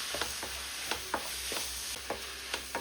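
Onions with rock salt stirred in a pan for Kerala-style duck mappas, a soft background sizzle broken by a regular series of quick spoon scrapes, about a dozen light strokes.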